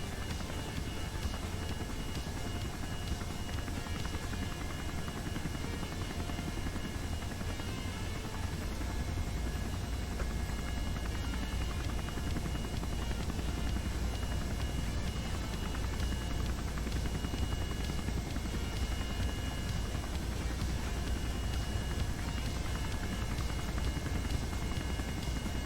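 Rocket engines held at full thrust in Kerbal Space Program give a steady, loud roar with an engine hum. It runs unbroken for the whole stretch, with no talk over it.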